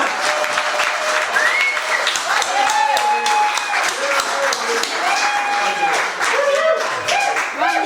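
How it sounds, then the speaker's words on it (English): A pub audience gives a sustained round of applause for a man at the bar, with cheering voices and whistles mixed into the dense, steady clapping throughout. "Big round of applause for Jimmy Connolly at the bar, please."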